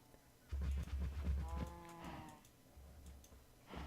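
A cow in a Minecraft modpack game lets out a low, drawn-out moo, followed by a second shorter bellow, loud and close with no talking over it.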